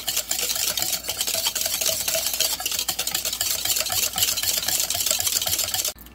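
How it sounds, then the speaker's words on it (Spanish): Continuous whisking as sugar is beaten into two eggs in a bowl for a pear-and-ginger tart filling, a steady brisk scraping rhythm held for several seconds before stopping abruptly. "Y vamos a continuar batiendo, integrando el azúcar con los dos huevos."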